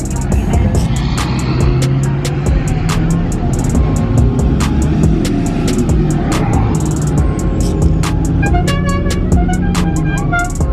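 Lifted trucks, including a Duramax diesel, rev and rumble at a crowded truck meet, engine noise blending with sharp repeated clicks, horn toots and crowd chatter throughout, with people talking nearby.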